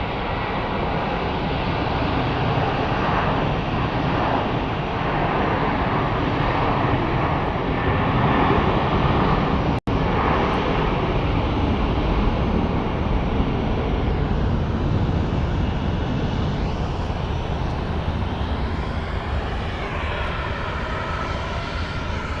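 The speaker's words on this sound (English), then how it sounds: "we do have a Southwest coming into the gate, so let's take a look at that" Southwest airliner taxiing toward the gate at Phoenix Sky Harbor airport, a continuous loud jet engine roar and whine held steady throughout, heard from nearby without speech.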